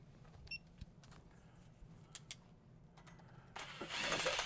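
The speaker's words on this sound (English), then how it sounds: "That's the torque wrench." A torque wrench clicks as it tightens truck transmission bolts during a Chevy LS swap, a few sharp separate clicks followed by a louder rising mechanical clatter near the end, with no talk.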